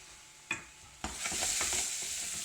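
Beef kidneys stirred in a hot frying pan: a couple of sharp scrapes of the utensil, then a steady sizzle with soft repeated stirring clacks, fairly close.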